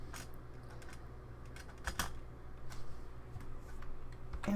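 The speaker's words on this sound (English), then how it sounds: "I'm going to type in Sandy Liang, and I'm going to also type Target." Fingers type a search on a computer keyboard, a quick run of soft, close tapping keystrokes in an otherwise quiet room, with no talk.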